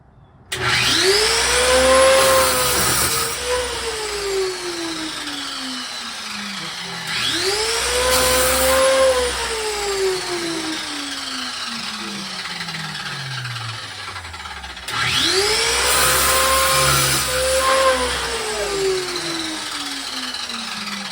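Power tool cutting garden railway track outdoors, a loud whining motor in three long bursts with falling pitch as each cut bites, close by and without speech.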